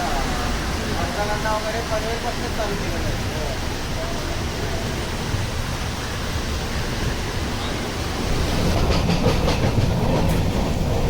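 A Diva–Sawantwadi passenger train rumbles steadily along the rails in heavy rain with a constant roar and faint rhythmic clacking, loud and close, as if heard from inside a carriage.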